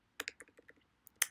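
Keys on a computer keyboard clack in a short burst of about eight separate strokes, then pause before a final pair of sharp, louder taps; close and alone with no voices.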